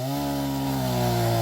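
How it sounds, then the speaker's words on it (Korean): A large Stihl electric chainsaw cutting timber in a remote area of Vietnam: a loud, steady, close motor whine that runs without a break and rises slightly in pitch, with no voices. "전기톱 큰 걸 가지고 목재를 생산합니다"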